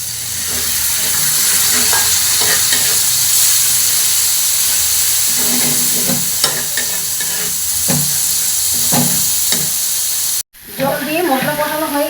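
Tomato-sauce masala fries in a pan as water is added, giving a steady hiss and sizzle with scattered crackles and stirring clatter. A voice is heard briefly near the end.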